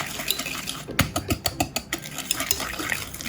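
A hand whisk beating a cream cheese and sugar mixture in a bowl for a burnt Basque cheesecake, with a burst of quick, close, rhythmic metallic clinks and scrapes against the bowl.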